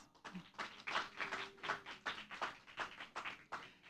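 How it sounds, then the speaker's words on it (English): Audience at a Toastmasters club meeting applauding, steady close clapping from a small crowd lasting several seconds, with faint voices underneath. "Please give ourselves a big round of applause"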